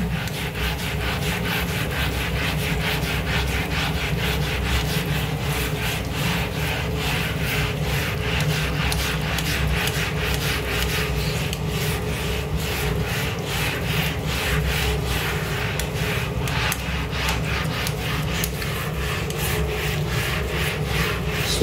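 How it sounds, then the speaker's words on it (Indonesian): Stubborn burnt-on crust being scrubbed hard, a loud, steady back-and-forth scraping rhythm up close, continuing alone with no speech. "kita gosok"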